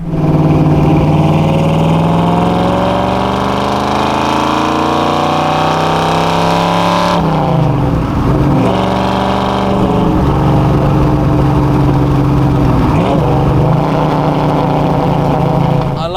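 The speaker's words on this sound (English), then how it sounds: "Let's have a bit more of that throttle, shall we?" A 1968 Chevrolet Camaro SS with a 7-litre 427 V8 and manual gearbox roars loudly and close up, its revs climbing steadily, dropping sharply, then surging again in a couple of throttle blips, with no talking.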